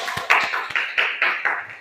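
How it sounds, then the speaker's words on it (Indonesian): An audience claps at a stand-up comedy performance: a short run of about six crisp, evenly spaced claps, close and fairly loud, with no one speaking. "Ya, tepuk tangan dulu."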